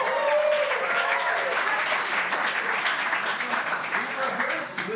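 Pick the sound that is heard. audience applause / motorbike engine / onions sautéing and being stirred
audience applause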